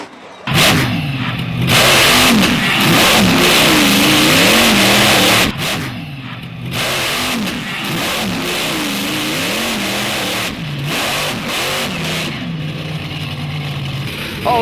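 A monster truck engine revs hard at a show with old cars, roaring loud and up close in surging waves, with short dips and fresh bursts of throttle throughout.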